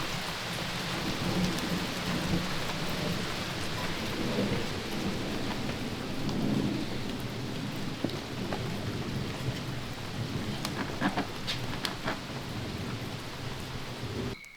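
Heavy rain pours steadily through a dark forest at night during a thunderstorm, with low rumbling thunder rolling beneath the downpour and a few sharper cracks near the end.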